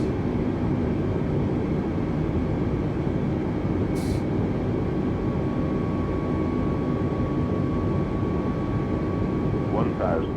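An Airbus A320neo in Microsoft Flight Simulator rolls for takeoff, a steady loud engine roar and rumble that holds level throughout, with a brief faint click near the end.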